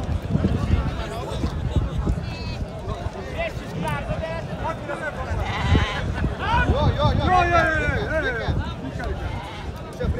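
Sheep bleat repeatedly at a rural kurash wrestling gathering in Uzbekistan, wavering cries rising and overlapping amid loud crowd chatter and someone talking nearby.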